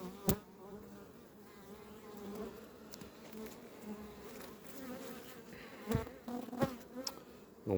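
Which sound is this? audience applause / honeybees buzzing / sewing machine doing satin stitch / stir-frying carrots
honeybees buzzing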